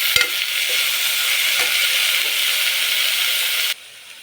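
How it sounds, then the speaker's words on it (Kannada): Fenugreek leaves fry in oil over a low flame for methi pulao, giving a steady, close sizzle with faint stirring scrapes. The sizzle runs unbroken for nearly four seconds, then drops away abruptly. "ಸ್ಲಿಮ್ಮಲ್ಲಿ ಹಿಡ್ಕೊಂಡು ಫ್ರೈ ಮಾಡ್ಕೊಳ್ಬೇಕು."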